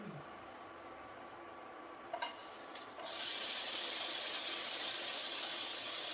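Onions dropped into hot bacon fat in a pot for Tuscan chicken and white bean soup: a few clatters, then a sudden steady loud sizzle that continues, close by.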